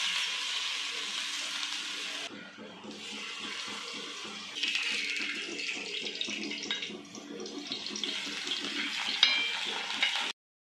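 Veg tikkis shallow frying in oil in a pan: a steady hissing sizzle with crackling pops, fairly soft and close, rising slightly near the end.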